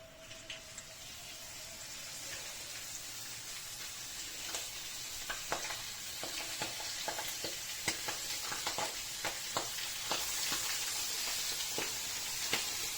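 Meat sizzles in a hot pan in a home kitchen, a steady moderate frying hiss broken by frequent sharp pops and spits, close and without talk.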